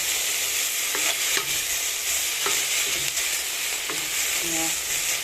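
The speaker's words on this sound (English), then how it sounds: "At this point, now you can add our tomatoes and stir very well." Small dried omena (dagaa) fish with tomatoes fry in a pan, giving a steady close sizzle with occasional spoon scrapes and stirring knocks throughout.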